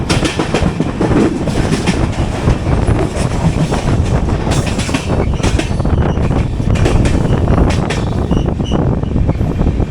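A main line local train rumbles past near Pune on the Mumbai route with continuous clattering wheels and steady roaring noise, loud and close throughout, heard from aboard a Pragati Express Vistadome coach.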